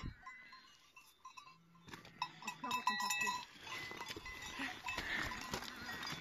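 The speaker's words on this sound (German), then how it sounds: "Das sind ganz liebes Schafe." Sheep wearing bells on an alpine pasture clank and jingle close by, with scattered bleats and shuffling amid nearby voices.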